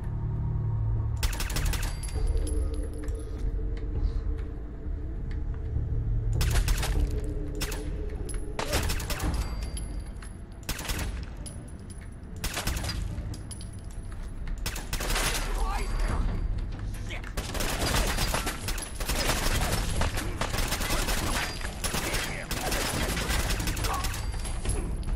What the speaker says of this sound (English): Gotta love when the bullets are hitting the pillar, even though I'm shooting at his head.